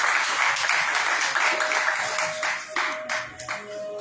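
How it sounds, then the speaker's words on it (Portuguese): A Pentecostal church congregation at a Thursday service claps together, a dense run of hand claps that thins into a few separate sharp claps near the end, with a sustained tone running underneath. "Uma salva de palmas para Deus agora neste lugar."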